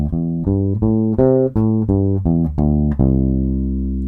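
A bass guitar runs through a major pentatonic scale, about ten clean plucked notes in a steady rhythm, close and alone, the last note left ringing.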